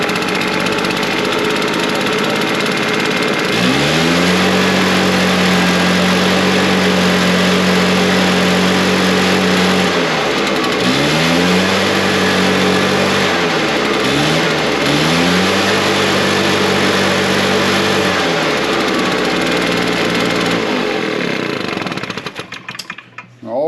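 A small petrol engine on a lawn tool starts with its choke off and runs loud and close. A steady buzzing drone rises and falls in pitch as the revs surge several times, then it cuts out at the end.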